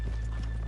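Horse hooves clip-clopping in the Western video game Red Dead Redemption 2, a brief, faint patter over a steady low rumble.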